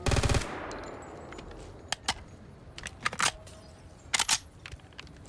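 Suomi World War II submachine gun firing in Fallout New Vegas, an opening burst of rapid automatic shots followed by scattered clicks and short mechanical rattles, fairly quiet overall.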